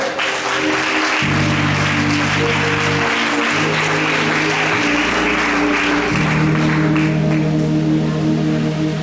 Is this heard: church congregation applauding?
yes